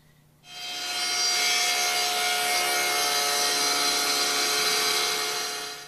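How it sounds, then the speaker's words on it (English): A table saw rips a thin strip off the edge of a wooden board, a steady loud rasping whir that starts abruptly and runs unbroken for several seconds. "Now we'll make that pass shaving off the edge of the board."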